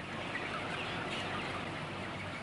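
Chickens in a crowded broiler shed, a dense, continuous wash of overlapping clucks and murmurs at moderate volume with no single bird standing out and no talking.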